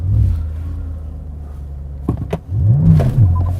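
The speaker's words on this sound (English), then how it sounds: "Hold the shifter forward, then apply the throttle." A Porsche doing a launch in manual mode: the engine idles with a low rumble, then revs up sharply and drops again, close and fairly loud.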